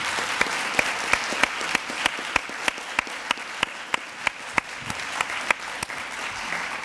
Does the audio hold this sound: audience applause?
yes